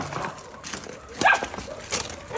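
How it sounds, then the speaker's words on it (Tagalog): Dogs bark in a few short, sharp bursts, one louder near the middle, while people talk close by. "Tapos dali mo sa mga asong tumatahol."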